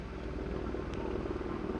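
A Westland Sea King and an NH90 helicopter at the Sanicole Air Show 2015 produce a steady, throbbing rotor and engine drone, continuous and fairly distant, with a low pulsing beat throughout.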